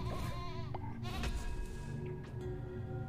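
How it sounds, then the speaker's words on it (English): A goat from the video game Cult of the Lamb lets out several wavering bleats, clear and close over a low musical background. "they made the goat noise"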